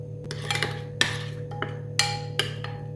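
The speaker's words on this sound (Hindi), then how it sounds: "थोड़ा सा ऑयल, तो हम मिक्स करेंगे।" Chicken marinade with oil, lemon juice and roasted ground spices being mixed in a bowl, giving a few sharp clinks and scrapes of a utensil against the bowl at irregular intervals, close and fairly clear with no talk.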